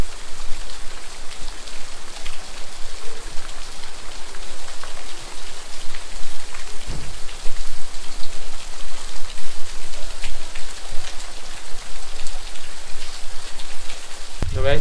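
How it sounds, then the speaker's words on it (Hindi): Heavy rain pours steadily on a morning stop in North East India, a dense, loud continuous hiss and patter that carries on unbroken, with no talking heard. "बारिश बहुत तेज हो रही है"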